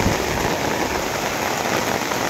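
Steady heavy rain drumming on surfaces during Typhoon Paolo in the Cordillera, a dense continuous hiss that stays loud and even throughout with no voices.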